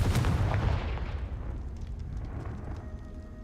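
Confringo fire spell blasting in the video game Hogwarts Legacy: a loud, heavy explosive boom that hits at once and then rumbles away into a long fading tail.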